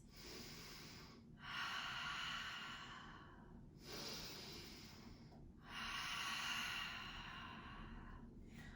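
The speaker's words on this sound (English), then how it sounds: "Take 2 deep breaths." Two slow, deep breaths held in a yoga lunge with hands intertwined, each a soft, close inhale then a long exhale through the nose, alone in a quiet room.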